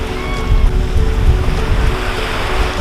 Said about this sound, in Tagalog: Nasa dagat tayo.